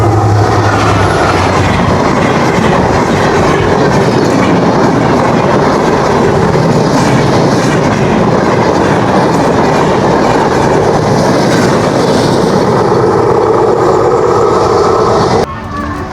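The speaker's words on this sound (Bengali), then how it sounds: "চলে গেল রূপসী বাংলা এক্সপ্রেস তার গন্তব্য ঢাকা থেকে ছেড়ে এসে বেনাপোলের উদ্দেশ্যে" Rupashi Bangla Express train running across the Afra rail bridge near Tularampur bazar, a loud continuous rumble and clatter of wheels over the bridge lasting throughout, close by, ending abruptly near the end.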